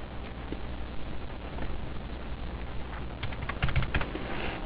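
Typing on a computer keyboard to enter an account in accounting software, a soft, steady patter of key taps with a brief denser burst near the end, close and moderately quiet.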